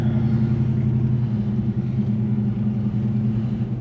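A 1950 Lincoln with a 420-horsepower engine produces a deep, steady low rumble that holds at an even level throughout, with no voices over it.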